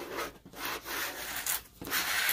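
Adhesive vinyl is rubbed flat onto a foam board with steady, close scraping strokes, a continuous rough rubbing that swells and dips with each pass, heard alone.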